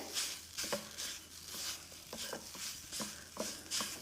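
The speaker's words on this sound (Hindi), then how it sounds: "इस तरह से डाल के हमें इसको 10 से 15 सेकेंड हाई फ्लेम पे पका लेना है" A potato mixture being stirred in a pan over a high flame, with regular scraping strokes repeating over a soft sizzle, close and with no talk.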